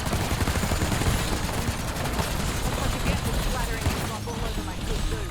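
Rapid gunfire in Black Ops 6 Zombies, a dense stream of shots with a Frost Blast augment build, loud and continuous with game effects layered over it.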